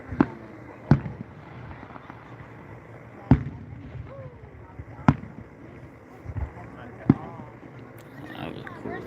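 Sharp fireworks bangs burst out about six times at irregular intervals over a steady crowd murmur, with some talking in the background.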